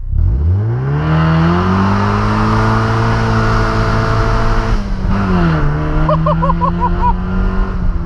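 A Mazda MX-5 with 110 hp and no exhaust fitted revs hard and accelerates, its loud raw engine note climbing steadily and then dipping briefly as a gear changes before pulling again, heard close up from inside or beside the car.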